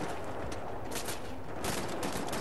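Gunfire in the Wolfenstein video game, a brief flurry of rapid shots with sharp bursts at the start and again near the end, fairly faint and with no talking.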